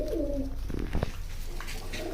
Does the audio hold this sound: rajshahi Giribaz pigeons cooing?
yes